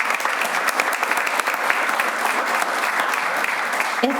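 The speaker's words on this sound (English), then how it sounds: "one more round of applause for our students" Students at a board of education meeting receive a sustained round of audience applause, full and continuous throughout, with no break in the clapping.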